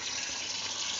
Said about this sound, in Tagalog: Hugasan lang natin ng mainit, ay malamig, na tubig, para hindi magdikit-dikit.